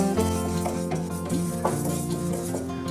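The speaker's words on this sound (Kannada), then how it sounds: "ಇದು ಕೂಡ ಬ್ರೌನ್ ಕಲರ್ ಬರೋವರೆಗೂ ನಾವು ಹುರ್ಕೋಬೇಕಾಗುತ್ತೆ" Urad dal is stirred as it dry-roasts in a pan for a traditional curry powder, giving a close, steady scraping and rustling with light pan contact under background music and no talk.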